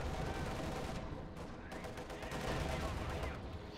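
Dense battle noise from the Company of Heroes 2 strategy game, with continuous gunfire and rattling machine-gun bursts, explosions rumbling underneath, steady and loud for a few seconds.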